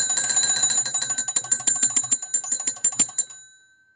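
Bells of an antique Stromberg-Carlson candlestick crank magneto telephone ring in a rapid metallic trill, loud and close, the strikes coming in quick bursts before stopping and fading out.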